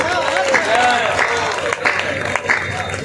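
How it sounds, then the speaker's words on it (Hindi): An audience at an Indian poets' gathering claps, a busy, fairly loud patter of many hands mixed with voices and crowd murmur. "तालियां बजाएं आप लोग"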